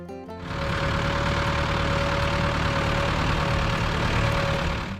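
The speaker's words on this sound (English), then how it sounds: "The Ford 5000 uses a 4-cylinder diesel engine, producing about 69 horsepower." A Ford 5000 tractor's 4-cylinder diesel engine idles loudly and steadily at close range, a dense continuous rumble with a faint whine running through it and no talking.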